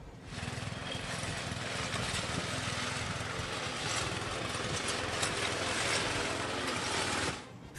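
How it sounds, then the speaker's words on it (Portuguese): A lawn mower mounted on a long pole, used to trim hedges, runs in a steady, buzzing engine drone with a rattling blade whir that holds constant before cutting off at the end. "por que usar tesouras de mão ou aparadores elétricos para nivelar suas cercas vivas, quando você pode simplesmente fixar um cortador de grama em um cabo?"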